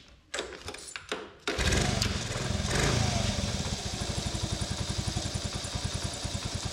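A cold three-wheeler motorbike engine cranks briefly, catches and settles into a loud, rapid, lumpy idle close by, with a few clatters before it fires and no talking.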